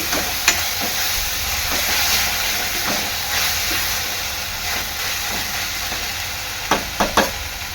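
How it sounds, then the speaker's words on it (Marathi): Ground ginger, garlic, green chili and coriander paste sautés in hot oil with a steady, even hiss, and a few sharp stirring clinks and scrapes come near the end. "वाटण चांगलं परतून घ्यायचं तेला"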